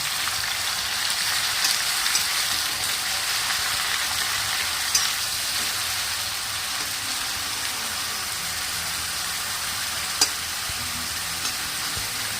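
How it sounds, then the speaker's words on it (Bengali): Onion paste sizzles in hot oil over a high gas flame as the base for a boal fish curry, a steady, close crackling hiss with occasional louder pops and no talk. "পেঁয়াজটা ভাজা হোক।"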